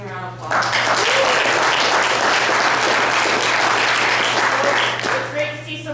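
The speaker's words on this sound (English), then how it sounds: "can we just give him a round of applause" Sustained applause from a crowd, loud and steady, rising quickly and tapering off near the end.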